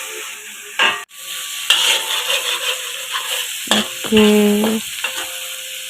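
Sambal ikan with dried chili and a little sugar sizzles and fries in a pan while being stirred, with close scraping strokes over steady crackling; a person briefly says a word.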